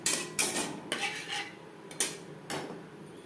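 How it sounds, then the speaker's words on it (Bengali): A utensil stirs bele fish with mustard paste and spices in a pan over a low flame, about five separate metallic scrapes and clinks spaced roughly half a second apart, close and fairly loud with no voices. "লো ফ্লেমে আরও 2-3 মিনিট মশলার সাথে নাড়াচাড়া করব"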